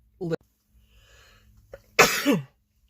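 A single loud, sharp sneeze bursts out near the microphone, preceded by a brief catching breath.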